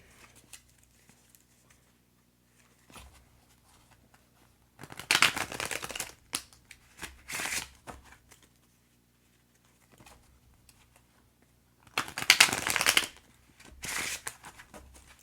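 Tarot deck being cut and shuffled by hand: two main bursts of close, crisp card riffling and slapping, separated by near silence with a few small taps.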